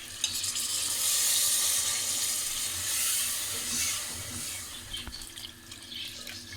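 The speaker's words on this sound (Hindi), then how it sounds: "अब हम इसमें पानी शामिल कर देंगे।" Water poured into a pot of chicken korma with browned meat and potatoes, a steady broad hissing, splashing rush that continues for several seconds, close and fairly loud with no talking.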